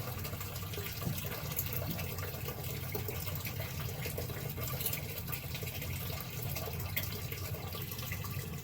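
Hot water streams steadily from an open valve on a boiler fitted with a Honeywell 8710-03 actuator, a constant rushing flow that stays close and even, with no voices.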